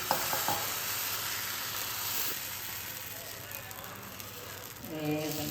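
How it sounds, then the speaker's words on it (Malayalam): Maida batter cooks on a hot pan like a dosa, giving a soft, steady sizzle with faint stirring and scraping noises and some voice near the end. "അപ്പോൾ ഇത് നമ്മുടെ ദോശ ചുടുന്ന പോലെ ചുട്ടെടുക്കാം."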